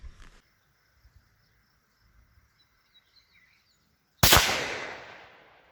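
A Ruger American Predator Gen 2 rifle in 6.5 Grendel fires a single loud, sharp shot that decays over about a second. Before it there is a quiet stretch with faint insect or bird calls and small handling noises.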